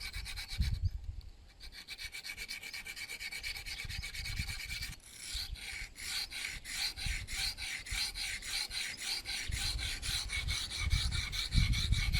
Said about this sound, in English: so I've got to make that smoother. So got my first sharpening stone.